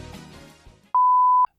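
A single steady electronic beep, held for about half a second at a clear, even pitch, sounds alone right after faint background voices trail off.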